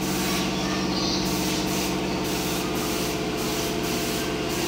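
A steady, loud hiss of spray painting on a friend's motorcycle, droning on without pause over a low mechanical hum from the compressor.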